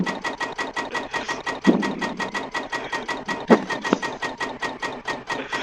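A small 1x1 engine built in the video game Stormworks runs with a fast, regular mechanical chugging pulse, loud and steady throughout, with a few sharper knocks along the way and no voices.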